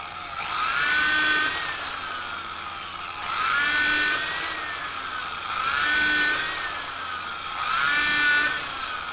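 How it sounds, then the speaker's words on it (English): A power drill bores stitch holes in a leather knife sheath for a Bowie knife, in four whining bursts of a few seconds each at a steady rhythm, close and fairly loud, with no talking. "then we're going to drill those out and start sewing"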